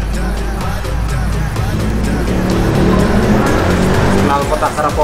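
A loud Akrapovic exhaust on a Yamaha Xmax scooter revs and roars close by, with engine tone rising and falling over a few seconds.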